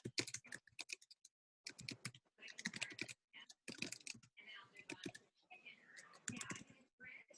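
Keyboard typing while designing in Canva: clustered bursts of quick, faint key clicks with short pauses, close and quiet, sometimes mixed with soft whispered speech.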